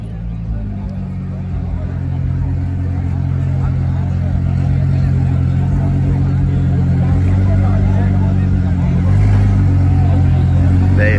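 Two cars, one of them an Audi, drag racing side by side, a loud sustained engine drone building and holding steady, with crowd chatter mixed underneath.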